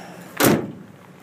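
A tailgate on a 2011 Ram 1500 4x4 Quad Cab pickup drops open with a single loud, close thud and clatter, then the sound fades quickly into a quiet background.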